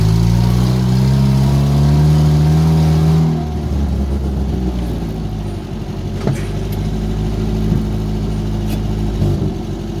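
Leyland vehicle engine revving loudly and close, a rising mid-pitched roar that eases after a few seconds into a rough, throbbing lower run.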